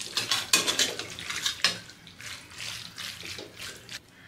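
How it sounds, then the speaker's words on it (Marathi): Macaroni masala pasta is stirred in a metal pan, a spoon scraping and clinking against the sides in quick irregular strokes, close and alone with no talk. "तर आता मिक्स करून घेऊयात हा पास्ता."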